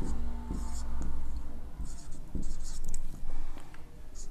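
Pen scratching across paper while drawing a perpendicular line during a complex-analysis lecture, with steady rubbing strokes, close and moderately loud, alongside low background hum.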